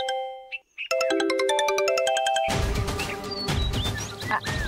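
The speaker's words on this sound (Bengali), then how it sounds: "টিকু, ছোট ফোন করেছে, আমাকে ফোনটা ধরতেই হবে।" A mobile phone plays a melodic ringtone of bright, repeating electronic tones, clear and close, then gives way to a harsh, broad noisy burst.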